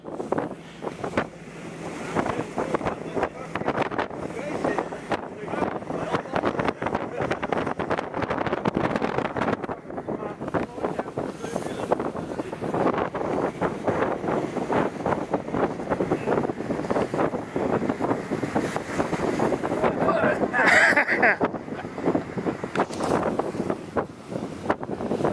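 Strong 15.8-knot headwind buffets the microphone aboard a Trader 535 Sunliner motor boat at 3000 RPM, a loud continuous roar of wind and rushing water with gusty surges throughout.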